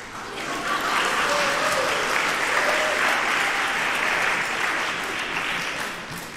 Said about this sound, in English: If you want to clap, just go ahead.